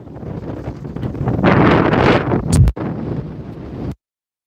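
Wind gusting across open water at a sailing regatta for ILCA dinghies, a steady broadband rush that swells loudly in the middle with a sharp buffeting thump on the microphone before dropping off abruptly.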